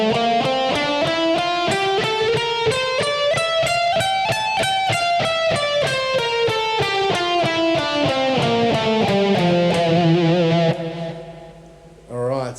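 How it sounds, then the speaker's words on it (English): A distorted electric guitar plays a Locrian mode scale one note at a time, climbing steadily and then descending in an even rhythm before ringing out. "the Locrian mode is going to look and sound something like this"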